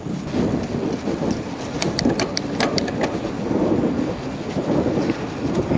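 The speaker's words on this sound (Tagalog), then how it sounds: "Kita mo, sarap ng hangin no." Wind rushes steadily over the microphone at a seaside road while riding a bike, a loud continuous broadband roar with brief clicks mixed in and no talking.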